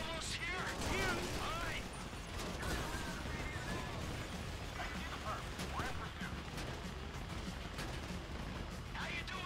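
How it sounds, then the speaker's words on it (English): GTA 5 gunfire crackles continuously, layered shots and bursts with clanking mechanical noises mixed in, dense and busy throughout. "You hear that gunfire? That's how I'm doing!"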